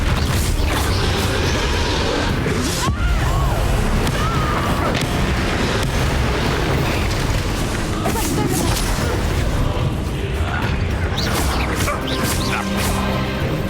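Spell combat in the Hogwarts Legacy video game, with Expelliarmus and Confringo cast over and over as dense crashes, booms and whooshing impacts fill the scene under busy game noise, with a voice talking over it.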